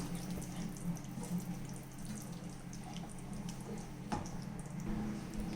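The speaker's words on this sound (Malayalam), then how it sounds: "ഇനി നമുക്കിതിലേക്ക് പാലൊഴിച്ച് കൊടുക്കണം." Milk being poured into a pumpkin and banana pudding mixture, a continuous close liquid trickle and splash with a few soft clinks, no voices.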